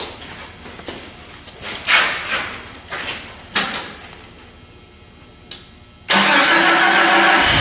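A 1990 Jeep Comanche with a rebuilt engine cranks in several uneven bursts before catching, then settles into a loud, steady close-up idle; no one talks.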